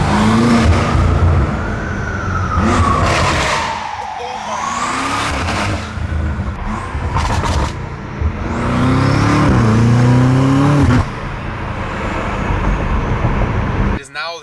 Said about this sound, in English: the turbo spool sounds insane, dude